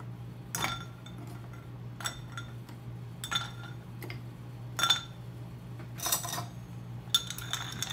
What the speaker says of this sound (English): Now we have to load it up with ice.